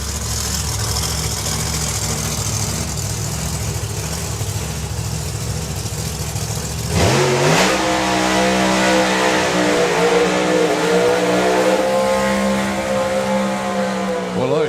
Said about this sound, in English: It is once again a supercharged Camaro taking on a turbo Mustang.